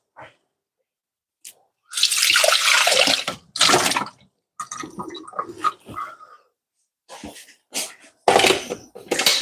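A slicer shredder rinsed under running kitchen water, with bursts of splashing flow starting and stopping, close and fairly loud, separated by quiet gaps and light clatter.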